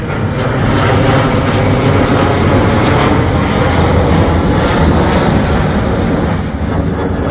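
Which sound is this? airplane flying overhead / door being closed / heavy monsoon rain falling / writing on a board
airplane flying overhead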